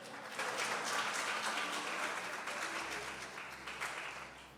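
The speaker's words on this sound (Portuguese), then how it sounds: "Nós estamos de palmas para ela." A church congregation applauds together, a full wash of clapping that swells in the first seconds and slowly thins out, with a low hum beneath it.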